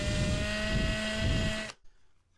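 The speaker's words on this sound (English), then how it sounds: "I'm going to have to drill a hole down through the baseboard" An electric power drill whines steadily at high speed while boring a hole down through a model railway baseboard, loud and close. It then cuts off abruptly, leaving near silence.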